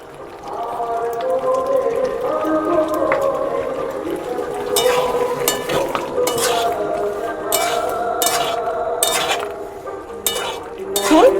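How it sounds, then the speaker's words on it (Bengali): Ghee and fried spices go into a pot of dudh shukto with clinks of a metal spoon against the pan, soft stirring scrapes and a few sharp tapping bursts, close and fairly loud with no talk. "এবার আমি এতে দিয়ে দেব ঘি আর দেব সেই ভেজে রাখা মশলা"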